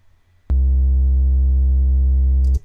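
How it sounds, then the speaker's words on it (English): A loud, steady low sine-wave synth sub bass tone with slight distortion starts abruptly, holds for about two seconds, then cuts off, with faint clicks at the edges. "the sub sound is just generally just a sine wave"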